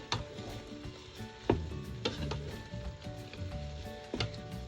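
Lentil soup ingredients sauté in a Ninja Foodi with a low, crackling sizzle, punctuated by scattered clicks and knocks from stirring.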